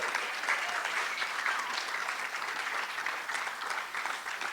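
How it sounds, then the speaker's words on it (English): Audience applause at a medical lecture on Morgellons disease, an even, sustained patter of many hands clapping at moderate distance, with no talking over it. "we all need to give her a big round of applause for what she does"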